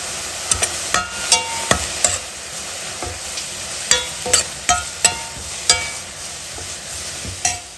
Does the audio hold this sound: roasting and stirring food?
yes